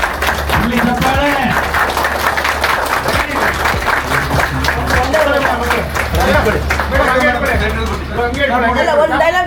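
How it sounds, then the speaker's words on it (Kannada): A crowd at a film institute event claps, a busy, close patter of hands mixed with loud overlapping chatter and voices throughout. "ಇಲ್ಲಿ ಚಪ್ಪಾಳೆ"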